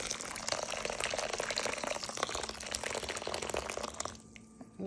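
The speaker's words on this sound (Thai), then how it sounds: "เทน้ำร้อนลงไปเนาะ" Hot water pours steadily onto washed black glutinous rice, a continuous close splashing and trickling that tapers off near the end, with no speech.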